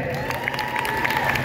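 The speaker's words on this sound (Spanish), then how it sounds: "Una vez más, aplauso para Karen." Studio audience at a comedy show in Kyoto applauding and cheering for a woman named Karen, a dense, steady wash of clapping with scattered shouts held at even loudness throughout.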